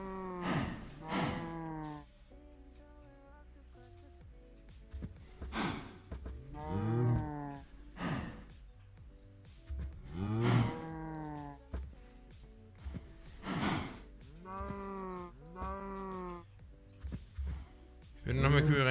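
Minecraft cows in a Sky Factory 4 modpack world moo repeatedly, long low drawn-out calls spread across the stretch, with a person talking at times between them.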